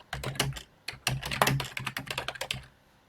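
Rapid typing on a computer keyboard, a dense run of close, crisp key clicks in irregular bursts with a brief pause, no talking.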